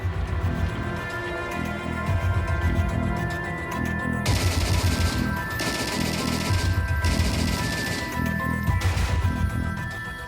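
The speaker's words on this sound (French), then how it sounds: "Pendant ce putsch de novembre 1923, une fusillade éclate entre les nazis et la police." Dense gunfire rings out in a staged recreation of the 1923 Munich putsch clash between Nazis and police, with rapid overlapping shots, crashing bursts and heavy booms over a constant low rumble.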